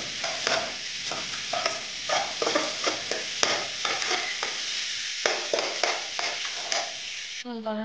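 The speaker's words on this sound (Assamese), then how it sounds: "নিমখ আৰু হালধি দি অকণমান লৰাই দি" Fish curry with salt and turmeric is stirred in a hot pan, giving a continuous sizzle broken by repeated scraping strokes of a spoon, close and busy throughout.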